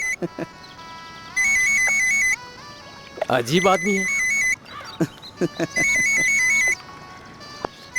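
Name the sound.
mobile phone ringtone ringing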